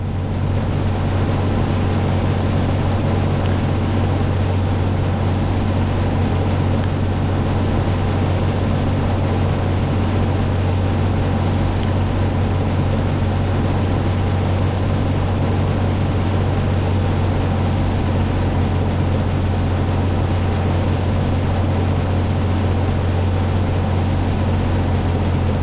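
Cessna 182 piston engine in the Prepar3D flight simulator, a steady loud drone with a strong low hum that holds unchanged throughout the approach, no voices over it.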